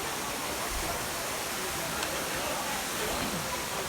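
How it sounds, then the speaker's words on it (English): David's Waterfalls in Israel pour with a steady, broadband rushing roar, loud and unbroken from start to finish, with faint voices barely noticeable beneath the water. "David's Waterfalls."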